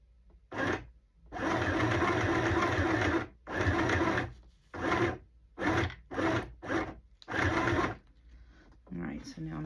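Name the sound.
sewing machine stitching a journal cover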